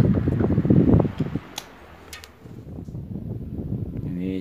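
An electric fan, fitted with a replacement gearbox and mounted on a wall, whirs steadily as it oscillates left and right, its airflow buffeting the microphone in rising and falling swells.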